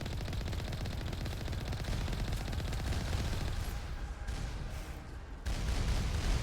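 Sustained rapid automatic gunfire in the Mass Effect video game rattles continuously at moderate level, with a short drop and then a louder resumed burst near the end.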